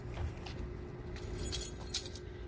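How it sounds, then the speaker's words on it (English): A bunch of camper keys jangles close by in a few bright, metallic shakes and clinks over a low background hum, with no talking. "I've got camper keys."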